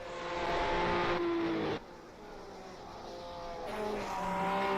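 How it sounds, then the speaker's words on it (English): A 1967 Ferrari Formula One car in a Monte Carlo sim racing game sounds its engine with a high, revving whine. The tone drops sharply partway through, then builds again as the car accelerates. "Listen to that engine note."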